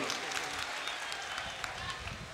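Steady crowd applause from a mushaira audience in Muzaffarnagar, dense and continuous throughout at moderate level, with no clear pauses.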